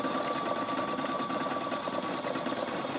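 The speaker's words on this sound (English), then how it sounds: "I'm going to stitch a couple of these out." A Viking Opal 670 sewing machine stitches with a steady, close, continuous mechanical whir and rapid needle rhythm, without any talk.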